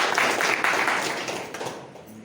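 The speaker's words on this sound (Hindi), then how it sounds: "एक बार तो इस बात पे तालियां बनती है कि हम नंबर 1 पे आ गए।" Seminar audience applauding together, a dense, steady wash of clapping that holds for a couple of seconds and then slowly tapers off.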